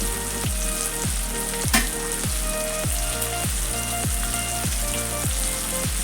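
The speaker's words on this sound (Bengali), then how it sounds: "এবার এটা ভালো করে কষিয়ে নেব।" Ground turmeric and red chilli powder sizzle steadily in hot oil for a red chicken curry, a continuous close crackle with a faint, regular rhythmic stirring scrape.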